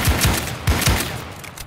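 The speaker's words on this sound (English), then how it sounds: "They're like shooting each other." Computer-controlled characters trade gunfire at a construction site in a video game, loud close shots in two quick pairs with a punchy low thump, then a fading tail.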